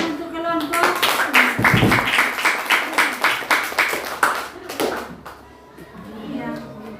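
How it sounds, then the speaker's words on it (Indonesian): A group in a classroom gets a short burst of clapping, a run of quick, distinct handclaps that are close and clear, with voices talking over and after them. "Ya, tepuk tangan untuk kelompok."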